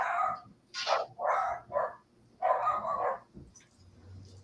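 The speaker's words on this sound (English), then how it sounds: "I apologize for my dogs." Several dogs bark indoors in short, sharp bursts of a few barks each, fairly close, with brief pauses and a softer whine at the end.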